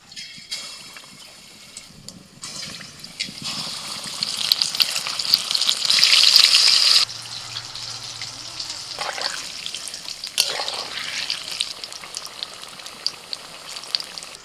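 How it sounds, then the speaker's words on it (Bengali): Broccoli pakoras coated in gram flour batter are lowered into hot oil for deep frying, setting off a loud, close bubbling sizzle that swells, then settles into a steady crackle with occasional splashes. "বেসমের ব্যাটারেতে ভালো করে ডুবিয়ে নিয়ে এবার এই তেলের মধ্যে ছেড়ে দিচ্ছি।"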